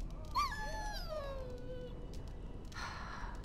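A dog in the video game Dragon Age: Origins lets out a single rising-and-falling whimper that trails into a soft sigh, followed by a brief rustle near the end.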